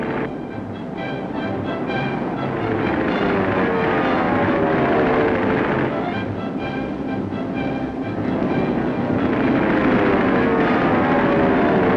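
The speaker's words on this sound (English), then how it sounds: "Men training with bombers, with fighters, with pursuit planes." A loud, continuous engine roar from military aircraft, bombers and fighters of the 1940 era, drones steadily with a rough, throbbing texture and swells in intensity throughout.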